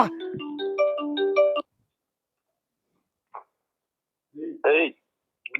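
A phone ringtone plays a bright electronic melody for about a second and a half, then cuts off; a few brief voice fragments follow after silence.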